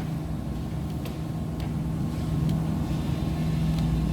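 A Nissan TB45 engine suffering severe low power from a plugged exhaust, idling and slowly rising in revs with a steady low drone and faint wind noise, heard alone.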